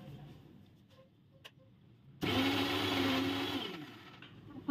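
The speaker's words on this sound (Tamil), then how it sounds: "ஸோ இது மிக்சி பண்ணிக்கலாம்." A kitchen mixer grinder blends a cup of chopped onions into paste, starting abruptly after a quiet stretch with a few faint clicks and then whirring loudly and steadily to the end.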